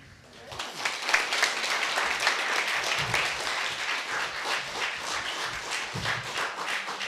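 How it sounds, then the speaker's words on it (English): An audience at a school storytelling event applauds a student, with dense, sustained clapping that rises quickly and holds at an even level throughout. "Let's give another round of applause to William"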